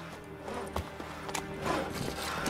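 Horse hooves clip-clopping in a fantasy video game, a short run of close, light hoof beats over a background bed of game sound, with a brief whinny-like burst and no talk.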